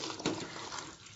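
Buttermilk poured into boiling majjige huli with vegetables, giving a steady liquid splash and bubbling hiss that holds at an even level throughout.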